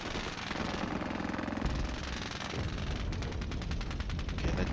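Machine gun fire in the turn-based video game Squad Battles, with dense rapid bursts rattling over a low rumble and a fast, evenly spaced stutter toward the end.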